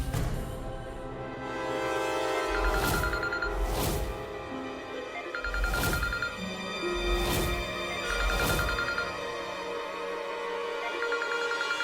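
A mobile phone rings after being called, its ringtone pulsing in regular bursts over faint background music, sounding somewhat distant rather than close.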